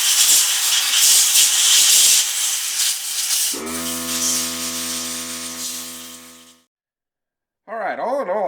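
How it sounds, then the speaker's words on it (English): A strong hiss of compressed air from an air compressor blows solvent out through the pistol slide of an Anderson Manufacturing Kiger 9C-Pro, loud and close, a steady tonal whistle mid-blast, cutting off before a short final burst. "I take my air compressor and I'm going to go through here now. I'm going to blow all that extra solvent out the back."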